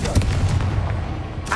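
A Confringo fire spell blast in Hogwarts Legacy bursts out as a loud, close boom with a rumbling low tail that fades over a second and a half.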